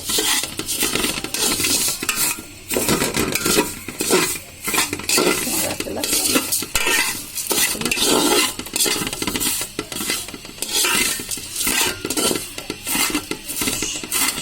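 Vermicelli (semai) being stirred and fried in a pan: a loud, continuous scraping and clattering of a spatula against metal in steady strokes, with a light sizzle underneath and no talking.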